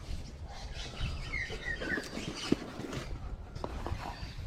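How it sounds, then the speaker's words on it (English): Birds chirp while competing for nesting territory, faint scattered tweets and short calls over outdoor background noise, with a few soft thumps nearby. "The birds are competing for nesting territory, it appears."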